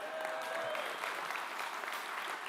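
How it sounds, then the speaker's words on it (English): Scattered clapping from a small conference audience at a React Native app development talk, a thin, steady patter of a few hands lasting a couple of seconds at moderate distance. "2 people clapped."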